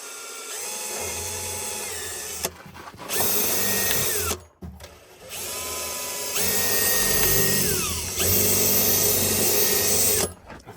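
Power drill boring into thick-walled material for a chicken waterer, starting with a smaller bit: loud, close whining bursts of several seconds each, rising and falling in pitch as the bit bites, separated by short stops.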